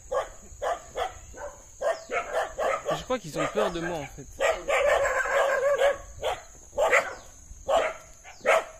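Dog barking in Indonesia, a dog acting aggressive toward a person, with repeated sharp barks and some yips close by and loud, mixed in with someone talking throughout.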